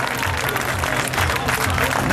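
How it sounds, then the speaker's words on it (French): A crowd applauds a pilot named Rémy at a meeting in Lens, a dense, loud, continuous patter of clapping, with crowd noise mixed in. "je pense qu'on peut l'applaudir"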